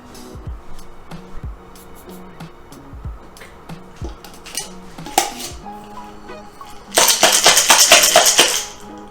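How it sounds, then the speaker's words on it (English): Ice clinks into a lidded mason jar for a brown sugar oatmilk shaken espresso, then shaken hard: scattered sharp clinks first, followed by a loud, dense rattling burst of ice against glass lasting about two seconds. "put some ice in here, put a lid on this mason jar, and shake it up"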